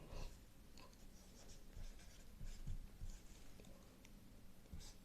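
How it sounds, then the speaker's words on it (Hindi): Faint scratchy strokes of writing on a board during a geography lesson, soft and intermittent against a steady room hiss, with no talking. "इधर लिख देता हूँ"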